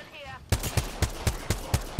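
Rifle shots in the Apex Legends video game ring out in a quick regular series of about seven sharp, loud cracks after a brief quiet start.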